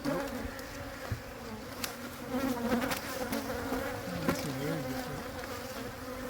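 Honeybees buzz densely and continuously around an open hive during an inspection, a close, steady drone with individual bees passing near.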